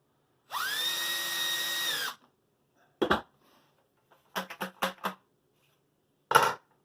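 A power drill boring holes in PVC runs in one steady whine for about a second and a half, followed by several short, separate clatters and knocks of handling, close and fairly quiet with silence between.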